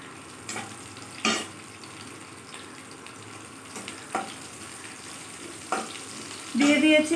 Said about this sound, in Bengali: আদা রসুনটা ভাজা হয়ে গেলে এবার আমি এর মধ্যে দিয়ে দিচ্ছি আমি কুচনো লঙ্কাটা